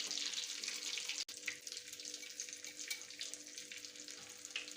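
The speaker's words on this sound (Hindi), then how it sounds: "बहुत अच्छे से टिक्कियाँ फ्राई हो गई हैं" Potato cutlets fry in shallow oil, giving a close, continuous crackling sizzle with a brief clatter partway through.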